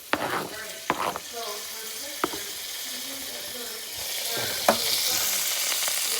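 Beef and vegetables sizzle and fry in a hot skillet, a steady hiss rising louder toward the end, broken by sharp scrapes and clacks of a utensil stirring the food; a voice speaks briefly near the start.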